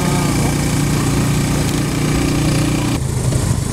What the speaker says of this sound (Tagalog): Motor ko yan ng aking sister.